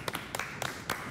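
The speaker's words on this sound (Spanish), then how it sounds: "un aplauso" A few scattered hand claps, about four soft, evenly spaced claps heard faintly at a distance, with no talk over them.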